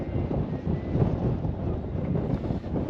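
Wind gusts at sea around a small fishing boat near the shore, a steady low rumbling buffet against the microphone that swells and eases, with no talk.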